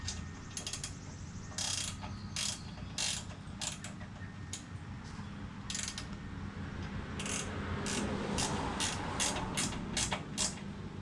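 A ratchet tightens bolts on a Predator 212 Hemi kart engine fitted with billet parts, making repeated bursts of quick clicking strokes up close, pausing between bolts.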